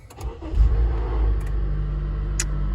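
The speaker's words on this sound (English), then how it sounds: "So we're in the car now. I'm going to start the engine." A Honda car's engine cranks and catches, then settles into a steady low idle rumble heard from inside the cabin, with a few small clicks and a brief higher tick near the end.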